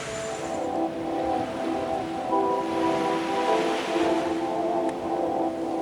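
Ocean surf washes onto a sea turtle nesting beach as a constant, moderately loud roar and hiss. Gentle swells rise and fall in the wash, with no voices.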